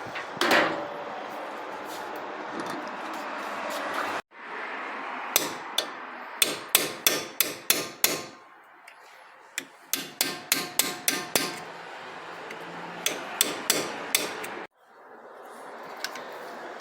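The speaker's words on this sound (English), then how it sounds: "So we just make sure that the impact driver's undoing" An impact driver hammers loose the two brake caliper bolts on a front-wheel-drive car during a wheel bearing job, firing in sharp rapid bursts of close, loud rattling impacts separated by brief pauses.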